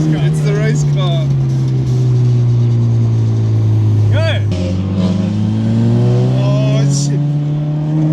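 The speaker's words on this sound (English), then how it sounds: "Oh, it's the race car. Yeah, it's a race car." A race car's engine revving hard and sweeping past at close range, a loud rising and falling whine, heard from inside a Mitsubishi Evo on track, with voices and an exclamation over the engine drone.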